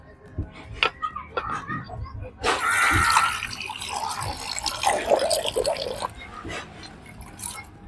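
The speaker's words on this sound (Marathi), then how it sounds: "आपल्याला 4 ते 5 पाण्यानं झिंगे धुवून घ्यायच्यात" Prawns being rinsed by hand in water, village style, give a burst of splashing and running water for a few seconds, close and fairly loud, while a voice talks before and after.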